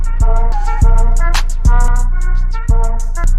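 Music sample from a HarmonAI generative model trained on a single song with a small sample size and a batch size of 1: loud sustained tonal chords with a steady pulse of heavy drum hits, with no voices.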